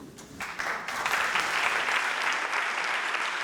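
An audience applauds after a talk on liberated companies, a dense burst of clapping that swells quickly and then holds steady and loud, with no voices over it.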